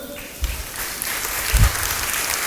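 A church congregation applauds during a sermon, a steady wash of clapping that runs through the whole stretch with a couple of heavier low thumps along the way.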